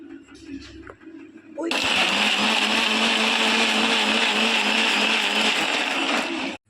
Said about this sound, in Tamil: இப்போ நம்ம அரைச்சி எடுத்துக்கலாம்.